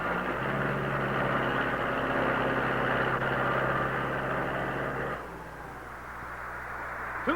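A John Deere 620 tractor's engine drones in a steady, low, fairly loud rumble during a tractor pull, then drops to a lower pitch partway through, with no voices.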